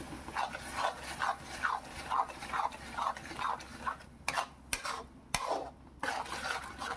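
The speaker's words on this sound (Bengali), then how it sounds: "ভালো করে আমি কষিয়ে নিচ্ছি" Ground tomato masala for chicken do pyaza is stirred and fried in a pan with repeated rhythmic scraping strokes over a low sizzle, followed by a few sharp clinks of the spoon against the pan.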